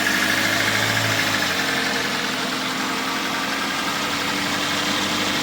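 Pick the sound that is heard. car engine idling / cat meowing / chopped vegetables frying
car engine idling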